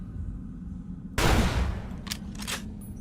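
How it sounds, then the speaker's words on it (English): Gunfire in Fallout: New Vegas, one sharp loud shot bursting in mid-clip and decaying, followed by two fainter short cracks, over a low steady background rumble. "You shoot again for good measure"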